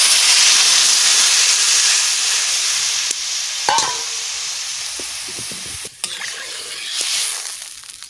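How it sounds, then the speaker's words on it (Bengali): Water poured into a hot pan of curry with cabbage, radish, potato and rohu fish sets off a loud, steady hiss and sizzle that holds for several seconds, with a few sharp clinks and a brief swell of bubbling near the end. "এবারে জল দিয়ে দিচ্ছি।"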